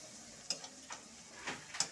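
Chili powder and turmeric fry in a pan with chopped tomato, a soft low sizzle with a few light stirring scrapes and taps, faint and close.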